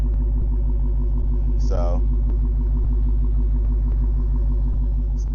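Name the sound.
Dodge Hellcat stock exhaust in track mode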